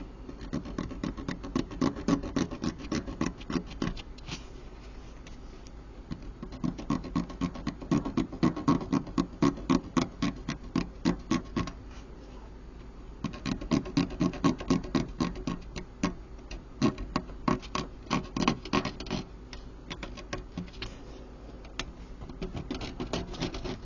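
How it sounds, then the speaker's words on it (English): Side cutters clip a small plastic samurai bow for a Wargames Atlantic miniature off its sprue, giving clusters of sharp close snips and ticks in several bursts separated by short pauses. "Let's go ahead and take a look at one of these bows, and we'll cut it off."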